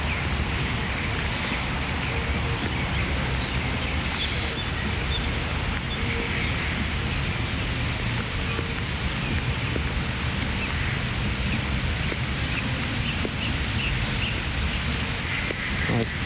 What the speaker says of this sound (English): Nice gentle rain.